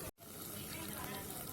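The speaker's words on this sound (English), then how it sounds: "the last process is to add some water" Water is poured into a pot of cooking mutton, a steady faint rushing gush after a brief gap, continuing evenly with a light sizzle underneath.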